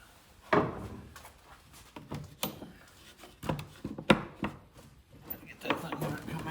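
A restored pioneer-era coal wagon has its back opened, giving a series of irregular close wooden knocks and clunks with short gaps between them.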